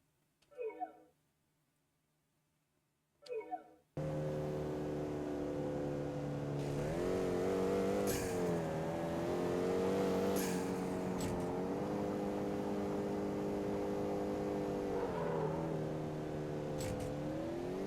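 A car engine in the Street Racing Syndicate racing game drones steadily with a tonal hum that rises and falls as it revs. A couple of short voice bursts come just before it, and sharp transient clicks sit on top.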